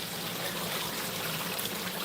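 Water pours steadily down a straight rock waterfall into a newly filled pond, producing a continuous, close, full rushing splash with no voices.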